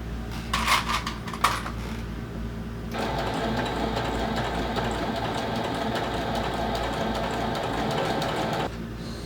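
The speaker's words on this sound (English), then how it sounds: "using a 1/4 inch seam allowance, we're going to sew around this U" A few light clinks and taps come first, then a sewing machine stitches a quarter-inch seam around the curve of a mini handbag, whirring steadily and close for several seconds before it stops.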